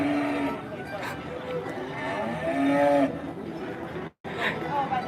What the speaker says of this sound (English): He mooed for you.